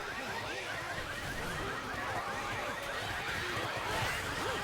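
A car alarm blares in Left 4 Dead 2, a dense wailing, warbling electronic tone repeating steadily and loudly over a busy mix of game noise throughout.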